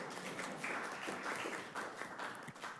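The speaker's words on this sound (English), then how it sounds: "So I think a round of applause for Councillor Dodge." Applause from attendees at a St. Catharines city council meeting, a modest round of scattered clapping heard from some distance, steady and fairly quiet for a few seconds with no talk over it.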